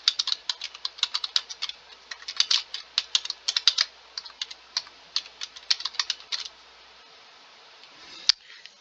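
Fingers type a sentence on a computer keyboard, giving rapid, irregular, crisp key clicks close to the microphone for about six seconds, then a pause and a single firmer tap near the end.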